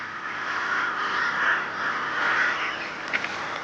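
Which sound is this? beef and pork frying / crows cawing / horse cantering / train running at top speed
crows cawing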